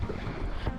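A yacht cruises on open water along the Turkish coast, with a steady low rumble of hull and engine under loud, continuous wind buffeting the microphone; no voices.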